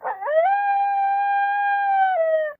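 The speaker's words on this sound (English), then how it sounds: "There it was again, howling." A single long, steady animal howl with a rising start and clear harmonic tone, held for over two seconds before trailing off, loud and close in a rural farm setting.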